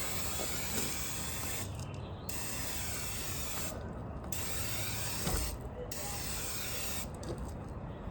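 A steady, loud hiss of an aerosol can spraying black paint on a 1981 Mazda RX-7 part runs almost continuously, broken by a few brief pauses, close by and without talking.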